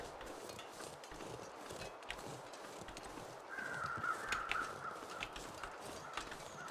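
Crows caw in The Long Dark survival game, a few short calls rising midway over a steady, breathy wind-like background that fills the whole stretch.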